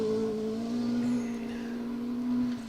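A Mark II rally car drives a forest stage at the Woodpecker Stages Rally, its engine giving a loud, close, sustained tone with a slight pitch rise as it passes.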